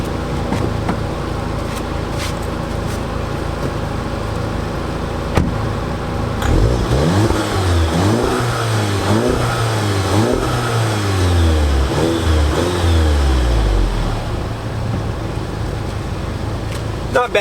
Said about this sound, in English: let's have a listen of the exhaust and see how she sounds